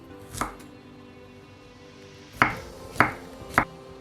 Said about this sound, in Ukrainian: Три великих зубчики часника притискаємо їх, щоб вони дали кращий аромат. І нарізаємо.